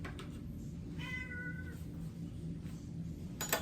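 A house cat meows once in a kitchen where pizza is being made, a short tonal call heard fairly faintly over steady background hum.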